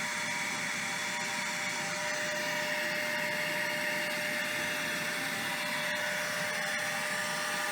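Shop vacuum cleaner drawing old, black brake fluid out of a car's brake system during a fluid change, giving a steady, loud, unbroken suction whine and roar with no talk.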